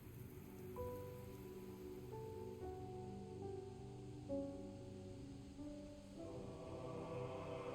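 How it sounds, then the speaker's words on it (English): Soft rain falls in the video game Sword of the Sea, a gentle continuous patter with faint musical tones drifting above it, quiet and without speech. "Have I always had the power to make it rain?"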